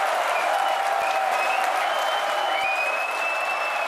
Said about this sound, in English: You can hear our crowd going wild